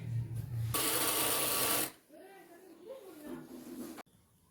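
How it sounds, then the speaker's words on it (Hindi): Sewing machine stitches elastic onto a shalwar waistband in one loud, steady burst of just over a second, then stops and leaves quiet room sound with a voice talking over it. "तो ये देखिए इस तरह से मैंने सिलाई लगा ली है इसकी।"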